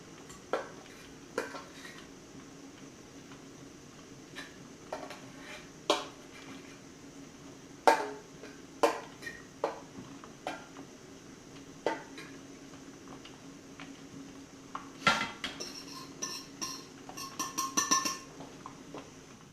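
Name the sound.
bread rolls dropped onto a plate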